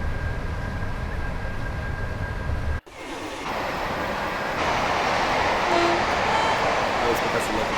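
A BR electric blue Class 86/4 electric locomotive hums along the West Coast Main Line in a 1980s train simulator route, a steady loud drone broken by a brief cutout, with a faint horn-like tone later.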